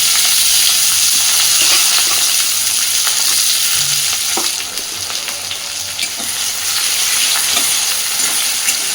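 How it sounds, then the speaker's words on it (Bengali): Chopped onion and slit green chillies hit hot mustard oil in a pan, making a loud, continuous sizzle that barely eases over several seconds, with faint stirring and no speech. "এবার এই তেলের মধ্যে দিয়ে দিচ্ছি পেঁয়াজ কুচি আর চেরা কাঁচা লঙ্কা।"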